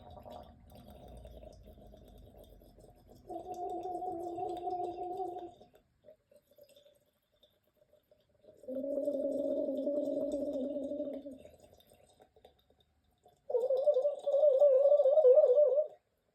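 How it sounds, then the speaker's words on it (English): Gargling vocal warm-up, a throat gargle in three separate bursts: the first is softer and unvoiced, and the later ones turn voiced with a clear pitched tone. Short quiet gaps fall between them. "gargling unvoiced, going into voiced."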